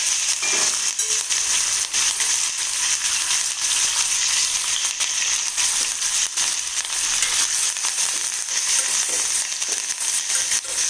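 Cashews, ginger, green chili and curry leaves frying in ghee for kattu pongal, a loud close continuous sizzle with crackling pops and no talking.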